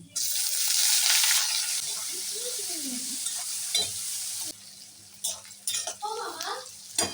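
Onions go into a pan of hot oil with fried garlic and dried chilies, a loud sizzle in the first seconds that settles into steady frying, broken by spoon scrapes and clinks against the pan.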